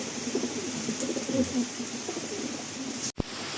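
An Andhra pigeon of the red-marked breed coos in low, repeated throaty phrases that run steadily through the moment, close by, with a brief sharp knock near the end.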